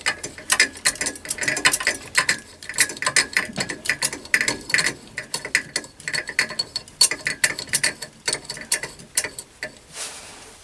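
Ratcheting clicks ring out in quick irregular bursts as the clamp bolts on a homemade bench vice are tightened, close and crisp, with no talking.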